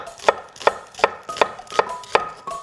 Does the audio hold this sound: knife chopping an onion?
yes